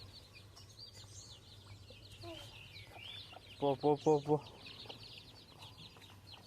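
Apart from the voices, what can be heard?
chickens and guinea fowl clucking while being herded inside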